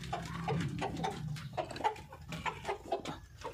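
Desi village hens in a home farm pen cluck softly while eating pieces of roti, with low, scattered clucks and pecking close by. No one speaks.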